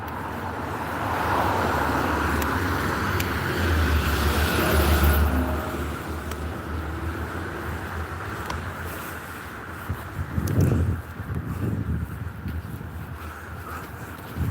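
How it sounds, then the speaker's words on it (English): A bus on the road into Hull rumbles past on a walk between Hollym and Withernsea, a steady loud engine and tyre roar that swells then eases, with wind noise over it. "one of our buses going into Hull"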